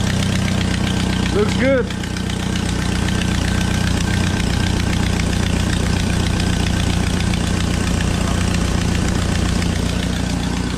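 Jeep Wrangler 2.5 engine idling steadily with a newly replaced fan clutch, a constant low hum with an even mechanical whir filling the whole stretch, while someone briefly speaks early on.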